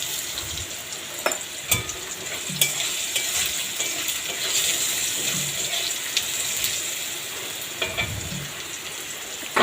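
Potatoes frying in a pan until reddish-brown, a soft, steady sizzle with scattered sharp pops and crackles, fairly quiet and close, with no talking.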